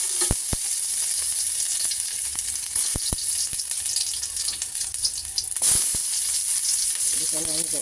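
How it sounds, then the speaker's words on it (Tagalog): Garlic and onion sautéing in a pan for chop suey, a loud continuous sizzle with occasional clinks of a utensil stirring against the pan and a brief watery sound near the end. "Gisa na natin ang ating bawang at sibuyas"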